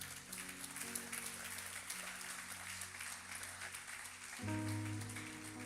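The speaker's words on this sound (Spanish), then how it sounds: "Un aplauso para Dios." Church congregation applauding during a Spanish-language service, a steady wash of clapping under sustained organ or keyboard chords that swell louder near the end.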